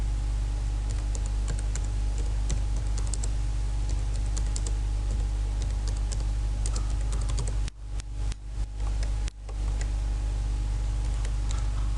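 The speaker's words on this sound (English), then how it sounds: "Then you just type in your headlines." Typing on a computer keyboard, rapid, steady key clicks at moderate closeness over a constant low hum, with brief dropouts partway through, no talking.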